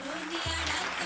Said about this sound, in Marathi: जोरदार टाळ्या यांच्या विहीणबाईसाठी वाजूयात